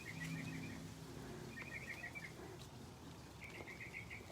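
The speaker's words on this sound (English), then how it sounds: "Can you guys hear those birds?" Faint, rapid bird chirps come in three short bursts over a steady outdoor background hum, fairly distant.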